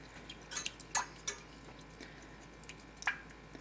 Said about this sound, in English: Then I'm gonna just turn this on low and whisk it up real quick